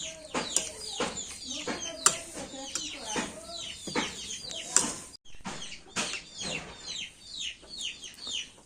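Chickens cluck repeatedly at close range in a chilly morning setting, bursts of rapid clucks and squawks overlapping in a busy, uneven rhythm with a brief pause midway.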